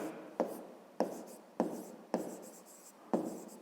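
Pen writing on paper during a 5th-grade maths lesson, several short scratchy strokes, each starting with a sharp tap and trailing off, close and quiet with pauses between.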